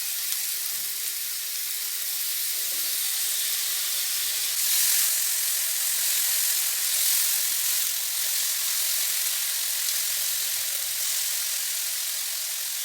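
Chicken shawarma pieces sizzle on an oiled grill, a steady close hiss of frying that runs continuously and swells slightly partway through.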